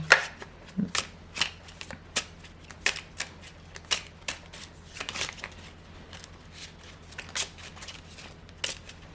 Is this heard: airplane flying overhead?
no